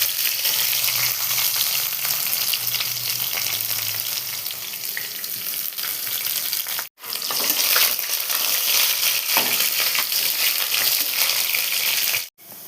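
Ginger and garlic sizzling loudly in hot oil with mustard seeds, cumin and curry leaves, a dense steady frying hiss broken by two brief sharp cuts.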